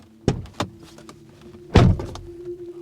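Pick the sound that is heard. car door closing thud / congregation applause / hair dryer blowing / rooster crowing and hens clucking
car door closing thud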